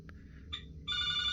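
A new cruise-ship cabin phone aboard Odyssey of the Seas rings after a call is dialed: a couple of short tones, then a steady electronic ringing that continues to the end, close and clear with no talking.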